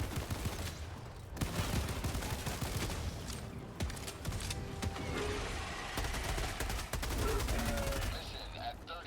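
A sentry turret in a chaotic co-op shooter video game fires dense, continuous bursts of automatic gunfire amid explosions and battle noise, loud and sustained throughout, with voices talking underneath.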